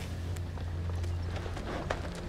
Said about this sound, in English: And they have horses.